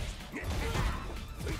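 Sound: crash from a Drive Impact in the video game Street Fighter 6

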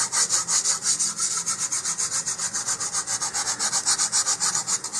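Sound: sanding laser cut model rocket fin with sanding block

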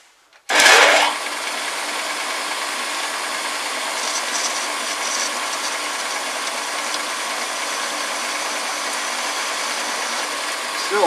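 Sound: homemade lathe parting off metal with a factory cutting tool

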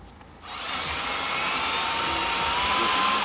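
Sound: power drill drilling out rusty brake rotor screws

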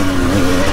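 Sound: enduro motorcycle braking hard on a muddy trail

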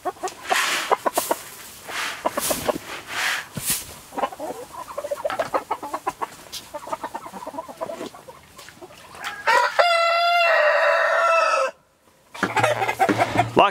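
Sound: chickens clucking and rooster crowing in greenhouse

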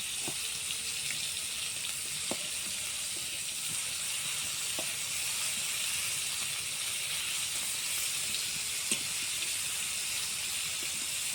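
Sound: shrimp frying in oil

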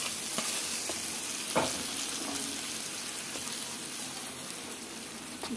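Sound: tempering sizzling in oil for chutney

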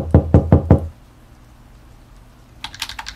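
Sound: knocking on a door in a video game

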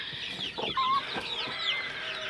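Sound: young rooster clucking

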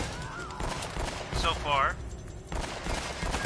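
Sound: gunfire in the video game Uncharted

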